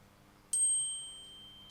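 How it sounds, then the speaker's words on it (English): A smartwatch notification chime sounds once: a bright, clear electronic ding that rings out and slowly fades, with a faint second tap near the end, alone in a quiet room. "Excuse my silly watch notifications."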